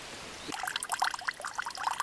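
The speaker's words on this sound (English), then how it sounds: "And you see it kind of dribbles through." Dirty water trickles and dribbles through a pre-filter from a Frontier Pro hiking filter, starting after a short pause and then running as a close, uneven patter of drips and small pours.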